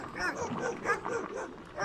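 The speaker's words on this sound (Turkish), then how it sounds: "Burada da böyle köpekler varmış." Several dogs bark and yip in quick, repeated bursts, fairly close, with some whimpering mixed in.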